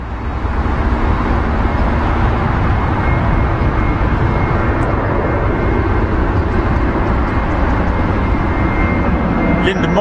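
An Air Canada Boeing 787 Dreamliner takes off from a Heathrow runway, its engines producing a loud, steady, broadband roar that fills the whole stretch without letting up.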